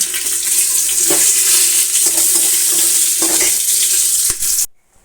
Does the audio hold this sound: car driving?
no